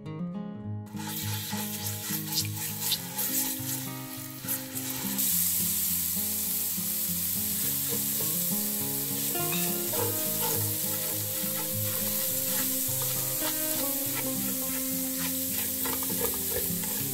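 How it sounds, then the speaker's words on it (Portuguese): Garlic toasts in olive oil with homemade seasoning and paprika or annatto for sausage pasta, a loud continuous sizzle with busy crackling and scraping, strongest after the first few seconds, while music-like tones sound underneath. "deixa o seu alho ficar bem torradinho"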